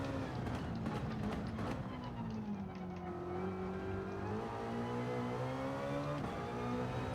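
The Alpine VGT 17 race car engine revs in Gran Turismo 7, a sustained whining tone that drops and climbs with gear changes, with a rising rev near the end.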